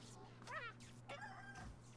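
Chicken clucking and a short rooster-like crow from the chicken coop card in the South Park Phone Destroyer mobile game, two brief bursts over a steady game hum, fairly close and moderately loud.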